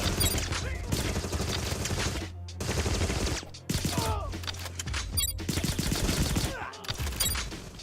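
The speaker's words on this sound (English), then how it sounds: "Why are you shooting at me?" Rapid bursts of gunfire aimed at the player in the video game Agent 64 crackle nearly nonstop, dense volleys with brief gaps, loud and close, with mechanical clatter mixed in.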